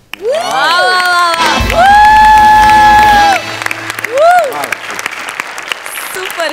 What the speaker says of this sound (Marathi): आणि मी उभा राहून टाळ्या वाजवतो.